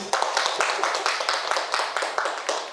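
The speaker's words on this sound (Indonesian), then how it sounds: "kita berikan aplaus untuk Bu Dina" An audience at a teachers' session applauds a speaker with loud, close, rhythmic clapping that carries on steadily throughout without a break.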